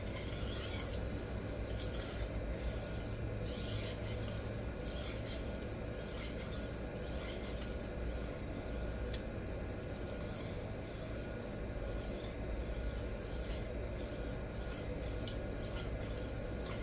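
Steady abrasive rasping of a knife blade worked across a Rikon 400/800 grit CBN bench plate during break-in, a continuous close scraping with rhythmic strokes and no talking.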